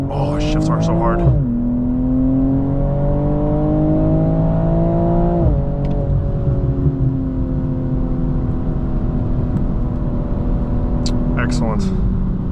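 A 2024 BMW M240i xDrive launching hard from a standstill, its engine note rising in pitch then dropping sharply at each quick gearshift, several shifts in a row, loud from inside the cabin while someone talks and exclaims.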